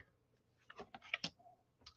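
Playing cards being shuffled, with a quick run of soft, crisp riffling clicks close by in a quiet room.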